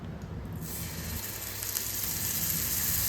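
Marinated chicken pieces frying in a little oil on a tawa, a steady bright sizzle that swells after a brief quieter start and keeps crackling throughout.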